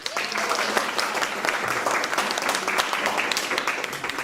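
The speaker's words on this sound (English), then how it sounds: "Clap for yourself." Debate students in a classroom clap for themselves at an English speaking competition, a dense, steady burst of many hands close by that fills the whole stretch without a break.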